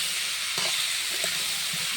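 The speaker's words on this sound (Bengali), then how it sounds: "এভাবে আস্তে আস্তে ভাজা হবে" Pumpkin slices frying slowly in a covered-free pan without added water, a soft steady sizzle with a few faint stirring knocks, close and quiet with no talk.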